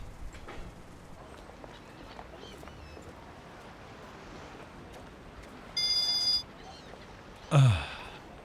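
A telephone rings once in a short electronic tone burst, and the call goes unanswered. The ring sits in a quiet room and is followed by a louder, sudden sound.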